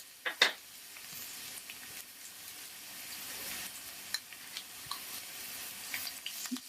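Crushed garlic sizzles in two to three tablespoons of hot oil in a pan: a faint, steady crackle after a sharp initial clatter, with scattered light ticks and pops.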